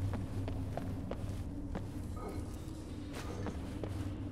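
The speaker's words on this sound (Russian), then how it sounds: "Я слышу шаги." Footsteps in a Nordic ruin in Skyrim, soft repeated treads at a walking pace, faint and somewhat distant, over a low ambient drone, no talk.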